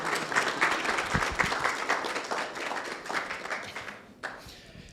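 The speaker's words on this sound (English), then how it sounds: "Clap for PMI, please." Audience clapping during a presentation at the NMPC 2023 project management conference, a dense patter of many hands that holds steady and then thins out and fades near the end.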